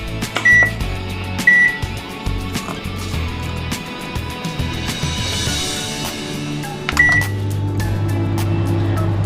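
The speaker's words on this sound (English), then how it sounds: "let's go over to the microwave and pop it in." A microwave oven hums steadily, with a few short electronic beeps and some clicks and rattles near the start and again near the end.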